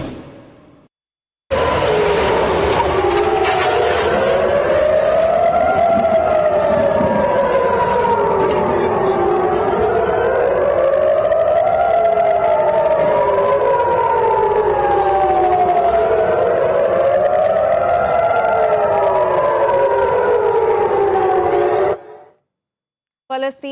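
Air raid sirens wail across Israeli cities during rocket attacks, several overlapping tones rising and falling in slow, staggered waves. The loud, continuous sound runs for about twenty seconds, then cuts off abruptly.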